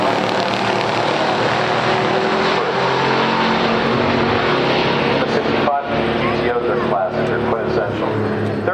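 A 1970 Chevelle 454 LS6 and a 1965 Pontiac GTO with a tri-power 389 at a pure stock drag race, with loud engine roar sustained throughout and an announcer talking over it.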